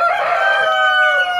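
Chickens and a rooster crowing loudly and close by, a single drawn-out cock-a-doodle-doo with clucking hens around it, no talk.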